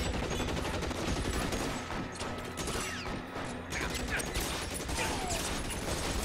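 Gunfire in the video game L.A. Noire, rapid bursts of shots with mechanical clatter over a dense, busy game soundscape, loud and continuous with no clear pauses.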